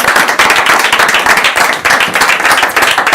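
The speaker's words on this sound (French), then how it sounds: "on l'applaudit très fort" A talent show audience claps loudly and close for a volunteer called up from the crowd, a dense, continuous burst of many hands with crisp individual claps standing out.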